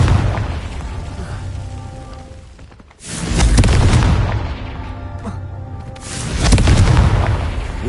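Confringo fire-blast spells explode in the game Hogwarts Legacy: two loud, booming blasts about three seconds apart, each with a long rumbling tail that fades slowly.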